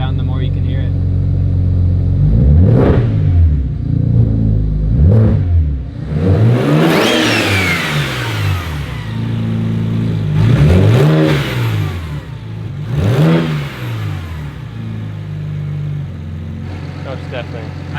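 A BMW 335i with a single T51R turbo revs repeatedly with a loud, jet-like rise and fall and a high whistling whoosh on each rev. The engine settles back to idle between the revs.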